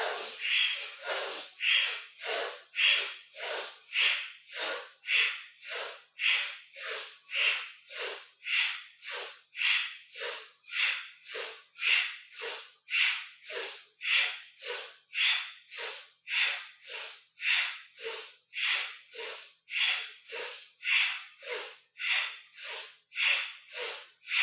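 Yoga breathing sounds as rapid, forceful breaths through the nose, roughly one per second. They are close, loud and strictly rhythmic, repeating evenly with no talking.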